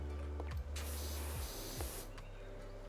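Pressure washer in the video game PowerWash Simulator, a hissing spray bursting on around 0.7 seconds and cutting off near 2 seconds, with low electronic swoops and a steady hum around it.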